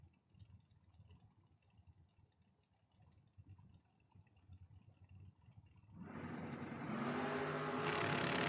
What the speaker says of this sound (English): Here comes the dragster down at the stripe.